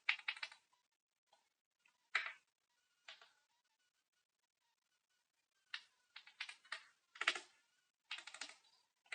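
Computer keyboard keys are tapped in short, quiet bursts of clicks separated by pauses, a few isolated presses then quicker clusters, like keyboard shortcuts and brief typing in a silent room.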